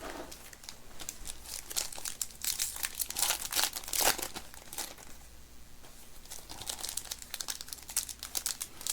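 Foil wrappers of Topps Heritage baseball card packs from a blaster box crinkle and tear open close up, a steady run of loud crackling rips with brief pauses, no talk.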